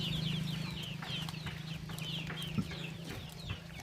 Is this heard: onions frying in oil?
no